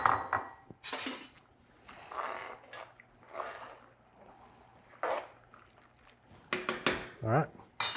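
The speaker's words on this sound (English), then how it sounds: "give it a good stir" A utensil stirs cavatelli pasta in a pot with scattered clinks and scrapes against the metal, close and intermittent, with faint voices in the background.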